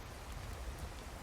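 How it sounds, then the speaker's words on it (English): Heavy rain in the survival video game Card Survival: Tropical Island makes a steady, dense hiss of falling water, faint and continuous, with no talking. "Oh, yep, heavy rain."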